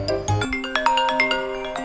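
A phone ringtone plays a bright, repeating melodic tune of chiming notes indoors, clear and fairly close, with no talking over it.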